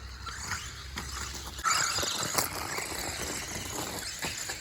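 A Fistone Spirit 1/16 scale RC monster truck drives with a whining electric motor and tyre squeal on dirt, a sudden louder rush midway as it accelerates, heard fairly near and alone.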